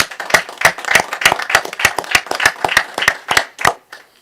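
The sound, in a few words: applause for Jennifer at city council session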